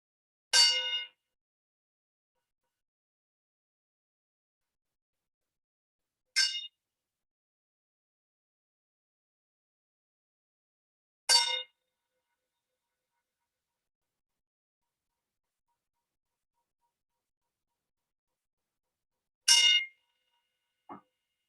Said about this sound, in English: when you hear the gong sound for the 3rd time